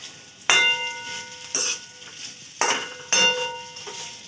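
Noodles with cabbage tossed in a hot pan, four sharp metallic clanks of a spatula over a soft background sizzle, each strike ringing briefly before fading.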